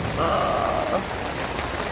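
Steady rain patters densely on a tent nearby, a constant hiss with no voices.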